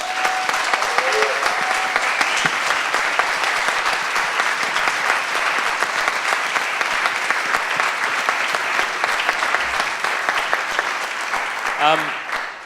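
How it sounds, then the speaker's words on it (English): Sustained round of audience applause for three speakers at a Chew The Fat event, steady and fairly loud for about twelve seconds before tapering off at the end. "So I want to just give one final round of applause for Roberto, Simon, and Max."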